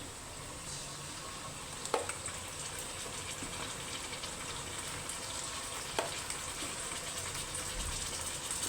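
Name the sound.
marinated chicken frying in a kadai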